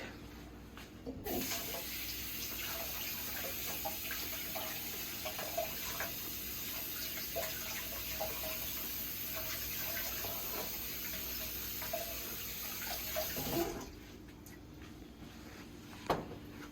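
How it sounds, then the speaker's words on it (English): A carrot is washed under a running kitchen tap, with a steady close stream of water splashing for about twelve seconds before shutting off, followed by quiet handling. "Let me wash off my carrot."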